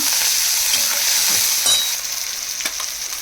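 Tomato and onion frying in a pan for a ridge gourd chutney, with chopped coriander stirred in; a loud, dense, continuous sizzle with occasional scrapes of a spoon against the pan.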